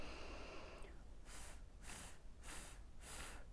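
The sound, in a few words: sit breathing relaxation exercise for the voice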